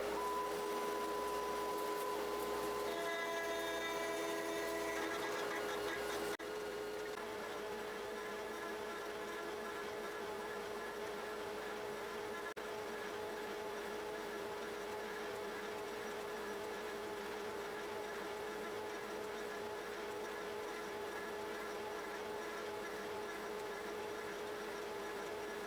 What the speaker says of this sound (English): We continue on with our 1/8 inch ballnose finishing pass.